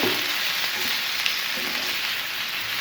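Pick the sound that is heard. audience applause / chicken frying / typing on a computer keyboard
chicken frying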